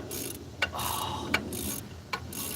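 Three sharp ratchet clicks at roughly even spacing as a wrench tightens a bolt on a small block engine, close and moderately loud over a steady hiss of background noise.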